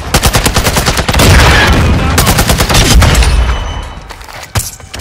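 Rapid gunfire from Call of Duty: Modern Warfare II team deathmatch, dense automatic bursts layered with heavier reports, loud and close, thinning out toward the end with one last sharp shot.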